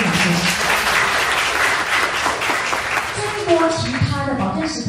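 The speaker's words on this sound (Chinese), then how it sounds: "给他鼓一个掌声。" A seated audience at a business seminar in Singapore claps at a presenter's prompt. The applause is full and sustained, then thins out as a voice begins speaking near the end.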